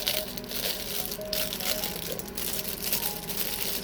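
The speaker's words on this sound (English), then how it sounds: "This plastic bag is confusing me." Continuous crinkling and crumpling of plastic close by, busy and rustling, without any voices.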